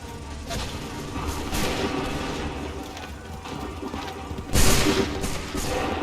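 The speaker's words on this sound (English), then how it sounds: "Open fire." Musket fire in Assassin's Creed III, scattered gunshots and battle noise throughout, with a louder, sharper volley burst near the end amid the surrounding din.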